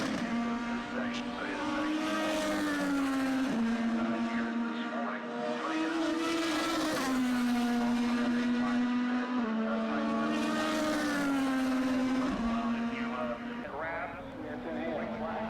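An IndyCar race car runs off into the gravel at Laguna Seca during the Grand Prix of Monterey, its engine loud and sustained with rising and falling pitch as it shifts through gears.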